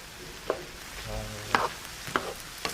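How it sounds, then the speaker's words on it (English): Shrimp cooking in a pan alongside sausage and sweet potatoes, a low continuous sizzle broken by several quick utensil clicks and scrapes, close and fairly quiet. "Shrimp are cooking."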